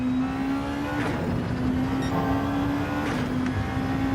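A race car engine in the Gran Turismo 7 racing game runs flat out, a steady, loud, high-revving drone that briefly shifts pitch at gear changes, heard alone without anyone talking.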